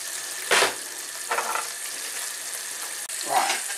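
Chicken dropping into hot fat on a stovetop pan, with a steady frying hiss and a few sharper bursts of sizzle as pieces go in.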